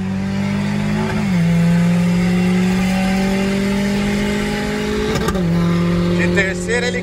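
Renault Sandero RS rally car accelerating hard from a stage start, its engine rising through the revs with a gear-change dip midway, loud and close, under excited talk.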